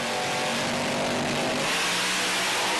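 A drag racing car at Perth Motorplex revs hard as the throttle is pumped, a loud, dense engine roar that rises and falls, close and constant through the moment.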